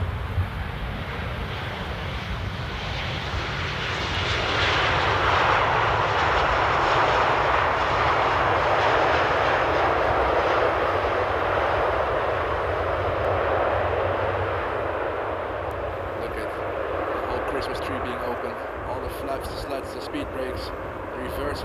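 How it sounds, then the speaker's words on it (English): A KLM airliner rolls along the long Polderbaan runway at Amsterdam Airport after touchdown, with no reverse thrust. Its jet roar is loud and sustained, swelling in the middle and slowly easing off, with a person talking over it. "an absolutely smooth touchdown on the nose gear there"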